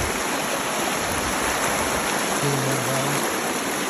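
Water in a countryside creek in Alabama, used for gold sluicing, rushes steadily and evenly, a dense continuous wash with a voice briefly speaking over it.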